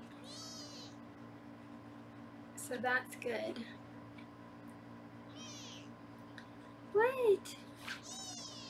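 A small foster kitten gives several high, whiny meows, with a loud burst in the middle and another near the end, while someone talks softly nearby in a quiet room.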